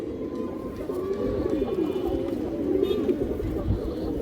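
High flyer pigeons coo steadily in a low, murmuring chorus close by, overlapping and continuous.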